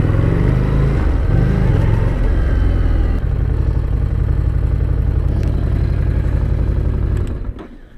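Harley-Davidson Street Rod 750 motorcycle engine pulling under a steady ride, a loud continuous low throttle drone with a brief rise early on, cutting off sharply near the end.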